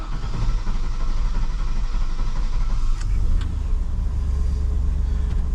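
Stock pickup truck on 35-inch tires driving on a road, with a steady low engine drone and tire rumble heard from inside the cab, continuous and fairly loud, with a few faint clicks.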